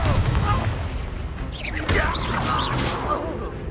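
Confringo explosive spell blasts from the Hogwarts Legacy video game, a few bursts layered over dense battle noise and a shouting voice throughout.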